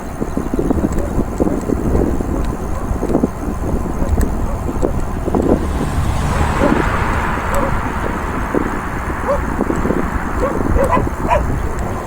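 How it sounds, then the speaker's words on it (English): Sheepdogs barking near the trail during a Bluvall BK10 test ride: repeated sharp barks and yips at mid distance, heard over steady wind buffeting on the microphone. "Okay, we're going to get barked at by some dogs up here."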